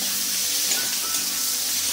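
Chopped tomato frying in a pan with spices and chili makes a steady, moderate sizzle that stays even and close for a couple of seconds, with no one speaking.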